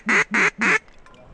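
Ducks quacking high overhead as a cold front pushes birds down: three loud, evenly spaced nasal quacks in quick succession, then faint, distant calls trailing off.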